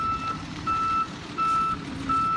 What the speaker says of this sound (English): Make sure we got a truck coming through.